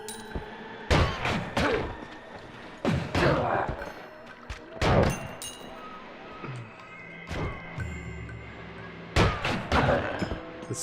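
Sniper gunfire in a video game, several sharp, loud shots spaced irregularly, each with a booming thud and a short decaying tail, with faint game sounds between them.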